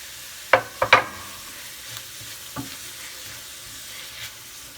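Tomatoes sauté in a pan. A few sharp clatters of stirring come early, then a faint, low sizzle runs quietly beneath. No voices are heard.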